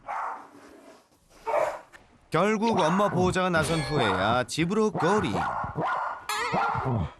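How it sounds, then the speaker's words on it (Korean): A dog barks fiercely at a visitor from a doorway in a home, with a few sharp barks near the start and more barking continuing under a narrator's voice. "반겨주기는커녕 무섭게 짖어대니 일단 피하는 게 상책이겠지"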